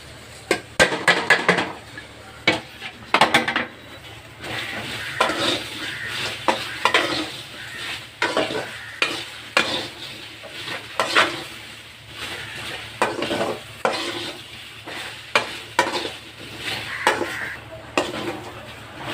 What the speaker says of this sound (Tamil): சும்மா கடாயில் வறுத்துக்கலாம்.